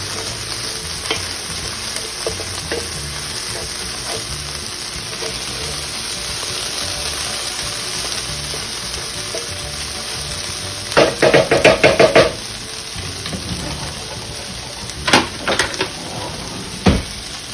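Eggs frying in a generously oiled breakfast pan give a steady, close sizzling hiss throughout, with a few louder clattering bursts of utensil or pan contact toward the end.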